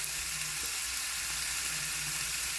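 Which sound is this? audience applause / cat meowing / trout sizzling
trout sizzling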